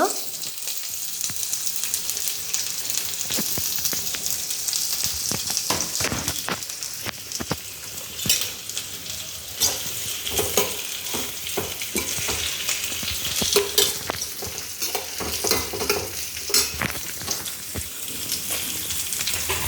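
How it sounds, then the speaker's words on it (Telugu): Onions frying in a pan after cumin seeds go in, a steady close sizzle with repeated scraping and stirring clicks throughout, no talk. "ఆనియన్స్ ఫ్రై చేస్తున్నా."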